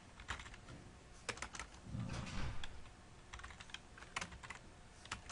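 Typing on a computer keyboard, bursts of quick light key clicks with short pauses, close and quiet, with no talking.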